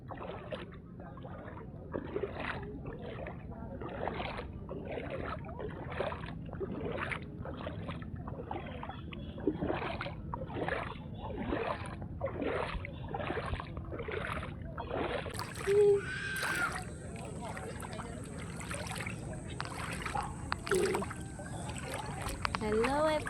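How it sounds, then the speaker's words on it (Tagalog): Motorboat engines drone across open sea, a steady mechanical hum with rhythmic pulsing and splashing, while people talk nearby throughout. "may mga bangka, tsaka may sakay ng banana boat"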